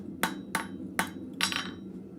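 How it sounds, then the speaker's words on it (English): Four sharp hammer blows ring out on an anvil as a blacksmith straightens an iron cloak pin at the forge, evenly spaced strikes heard close and alone over a low shop hum. "So we'll go over to the anvil, straighten that up."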